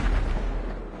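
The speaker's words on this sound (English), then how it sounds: "That's very reassuring when I hear a bunch of explosions right around me." A deep, rumbling boom from explosions in Grand Theft Auto, a single heavy low blast that decays over about a second.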